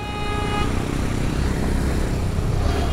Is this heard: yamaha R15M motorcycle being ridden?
yes